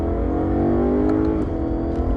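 A BMW M3 E92 engine pulls hard on the road, a loud continuous revving howl that rises and dips slightly, with a quick shift midway and no talk over it.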